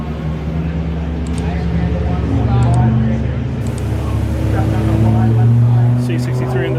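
A BMW M3 drives past at a race meeting, its engine droning and shifting pitch over the steady rumble of other cars, with voices talking nearby.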